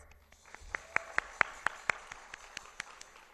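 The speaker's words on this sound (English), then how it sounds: "A big round of applause." Conference audience at an opening plenary session giving a round of applause as a speaker is introduced, a scattered, fairly quiet patter of separate distinct claps, loosely rhythmic and thinning out, heard from mid distance in a large room.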